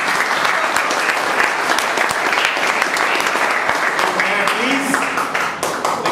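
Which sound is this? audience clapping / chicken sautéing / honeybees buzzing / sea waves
audience clapping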